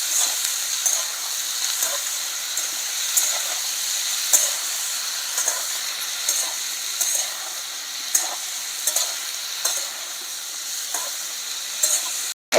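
Beans sizzle in a hot frying pan while being stirred and sautéed, a steady close hiss of frying broken by soft regular scrapes and knocks of the spoon against the pan, with no talking.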